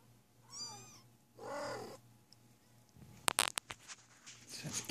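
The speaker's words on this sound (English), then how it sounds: "Such cute little kitties." A litter of young kittens mewing in thin, high, rising cries, two clear calls close by, followed by soft patters and clicks of movement in a quiet room.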